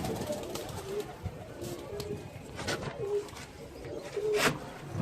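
Pigeons coo in soft, repeated low phrases at close range, several overlapping calls spread across a few seconds, with faint human voices and handling noise in the background.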